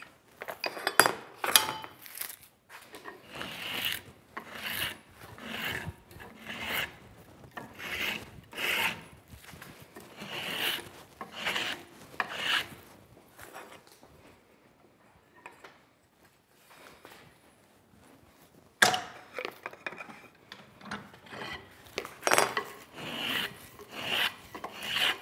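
A hand tool shaves wood from a Windsor chair spindle, heard as repeated close rasping strokes in an uneven rhythm, with a pause midway before the scraping resumes.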